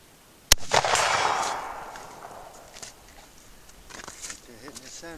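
A single loud gunshot is fired at a target near a small tree outdoors: one sharp crack followed by a long rolling echo, then quiet rustling and a brief voice.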